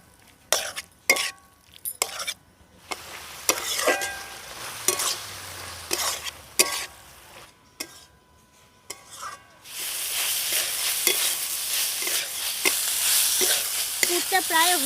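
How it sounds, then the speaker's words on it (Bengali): A spoon scrapes and knocks repeatedly against a pan while chicken filling with spices and tomato sauce is stirred, then a louder continuous frying sizzle takes over for the last few seconds. "তো এবার খুব ভালোভাবে সমস্ত কিছু কষিয়ে নেব।"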